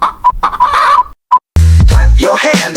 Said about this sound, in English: Chickens cluck, lively and clear, starting the day with cheer.